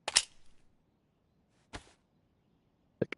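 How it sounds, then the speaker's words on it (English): A magazine dropped in the DayZ survival game: a sharp metallic clack, a second similar knock after a pause, then a quick double click at the end, each brief and isolated against near silence. "Drop the mag."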